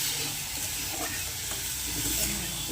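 Mixed vegetables seasoned with salt and a little turmeric are stirred in a hot pan, giving a steady, close sizzle with soft scraping strokes running throughout.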